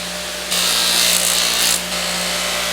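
A polishing wheel on a power tool buffs a finish in one short pass of about a second, a soft rubbing hiss rising over a steady motor hum.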